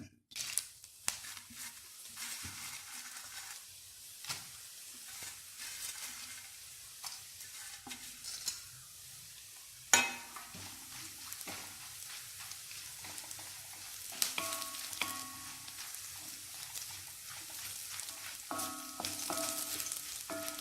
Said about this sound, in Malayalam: നമ്മൾ എണ്ണ ചൂടാക്കി അതിലേക്ക് പാവയ്ക്ക വറുത്ത് കോരണം